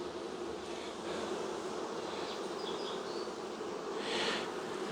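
Honey bees buzz steadily at an open hive, a dense continuous drone close by with a few louder passes of individual bees flying near, no voices.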